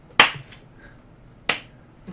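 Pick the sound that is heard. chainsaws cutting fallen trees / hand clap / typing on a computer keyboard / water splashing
hand clap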